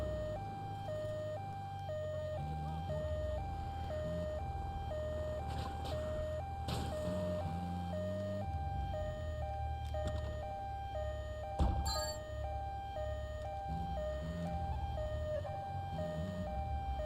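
Ambulance siren in the video game GTA 3, a continuous two-tone wail alternating steadily and loudly throughout, with engine rumble and occasional bumps and impacts underneath.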